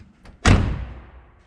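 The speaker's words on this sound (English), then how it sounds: "That's what you're supposed to hear when you shut one of these doors." A car door on a 1969 Chevy Impala with manual crank windows and locks is shut once, a single loud, close, solid thud with a short fading tail and nothing else around it.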